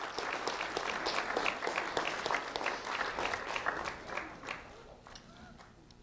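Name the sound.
audience round of applause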